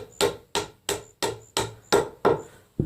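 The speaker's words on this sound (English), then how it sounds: "Yeah, I know I've got a claw hammer." A claw hammer strikes repeatedly at an aluminum drive shaft U-joint on a 2010 Ford F-150, seven sharp, evenly spaced metallic blows ringing close and loud with short decays between them.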